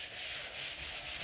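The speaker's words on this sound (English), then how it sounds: "gentleish sand, just to get it cleaned up really" Steady, continuous light sanding on a wooden dining table, a gritty rasping hiss with soft rhythmic strokes, close by and fairly quiet.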